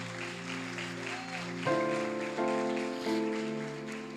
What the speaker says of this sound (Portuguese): Aplauda Ele aí, glorifica Ele.